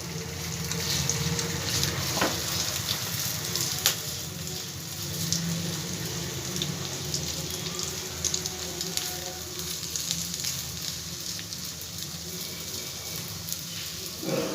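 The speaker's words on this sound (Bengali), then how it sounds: "আস্তে আস্তে এইভাবে ফ্রাই প্যানের মধ্যে পেতে দেবো চিংড়ি মাছটা।" Prawns laid into a hot frying pan for a prawn and flat-bean paturi give off a steady, even sizzle with fine crackling that continues without a break for about fifteen seconds.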